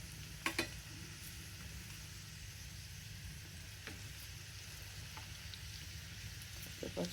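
Bitter gourd fries in olive oil with green chillies, giving a quiet, steady sizzle with a few soft clinks from stirring.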